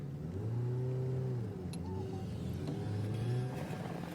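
A stock 60-year-old VW bus engine revs steadily on an off-road hill climb in Orange County, California. The motor drones loud and close throughout, with its pitch rising and falling through several revs and no talking.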